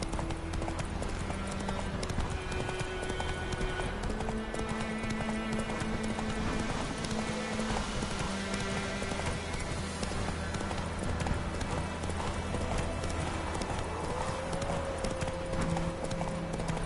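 Steady galloping hoofbeats of the horse Roach in The Witcher 3 video game, continuous clip-clop over a dense game soundscape with music, running the whole stretch.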